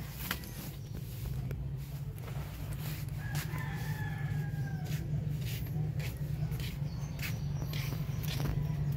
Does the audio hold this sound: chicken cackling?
yes